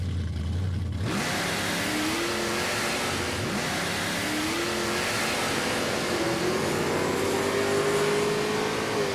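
A Pontiac Firebird drag car, running rich with a badly off tune, idles and revs loudly in a steady, continuous roar with rising engine pitch sweeps, close and with no talk.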